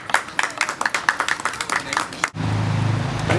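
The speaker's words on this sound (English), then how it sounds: "please give him a round of applause for being here with us." Audience clapping for Rabbi Beryl Sussever at a Torah dedication ceremony, a run of distinct claps for about two seconds that cuts off abruptly into a steady low hum.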